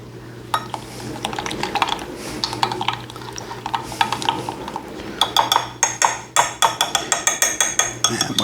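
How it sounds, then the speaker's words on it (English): Meatloaf ingredients including Worcestershire sauce, onions and beef base are stirred together in a bowl, giving close clattering scrapes of a utensil against the dish that turn into a fast, rhythmic series of knocks toward the end. "And we're going to mix that all together"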